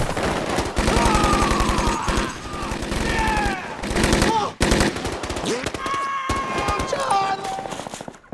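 Rapid bursts of automatic gunfire crackle loudly and continuously, mixed with shouting voices and chaotic action noise.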